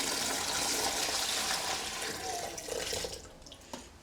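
Water, 2,500 grams of it, runs in a loud continuous pour into a large tub holding sourdough starter, then tapers off into splashes and drips near the end.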